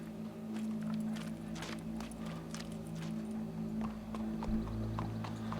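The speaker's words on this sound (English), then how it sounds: "Go brush that horse, officer." Horse hooves clip-clopping at a walk in the Red Dead Redemption 2 video game, a steady close rhythm of hoof strikes over a low ambient hum, with no talk.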